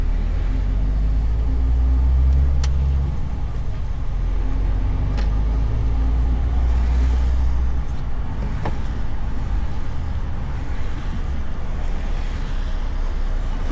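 A car driving on a motorway in slow traffic, a steady low road rumble and engine drone with a few faint passing-vehicle swells, no one talking.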